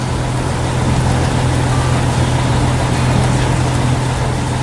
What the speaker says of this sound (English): That is a fire truck,